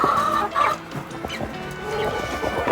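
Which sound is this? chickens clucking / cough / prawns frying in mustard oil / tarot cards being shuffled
chickens clucking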